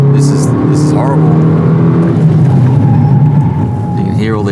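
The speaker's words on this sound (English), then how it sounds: "You can hear all the ABS kick in." A car's ABS chatters under hard, repeated braking, with rough juddering tyre and engine noise; a voice briefly cuts in over the loud, continuous roar.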